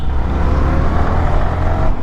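Yamaha R15 V4 motorcycle at full throttle, a loud, dense engine roar heard up close and continuous while riding.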